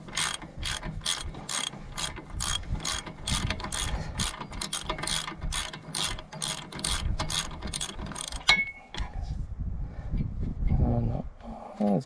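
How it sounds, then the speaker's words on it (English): A hand ratchet clicks rapidly and steadily as it loosens bolts on the engine of a New Holland TC45 tractor with a Shibaura N844L engine. The clicking is close and continuous for several seconds, then stops and gives way to clunks and faint speech. "let's get them up over the ratchet"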